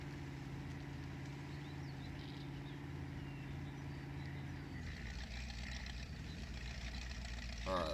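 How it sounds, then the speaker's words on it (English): Truck engine in Spintires MudRunner idling with a low steady rumble, then shifting to a rougher, heavier running note partway through, continuous and fairly close. "Right, starting its engine."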